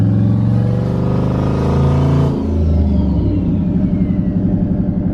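GMC Envoy with a new custom exhaust pulling under part throttle, a loud, close, deep droning exhaust that rises through the first two seconds, then drops into a lumpy, pulsing burble as the throttle eases.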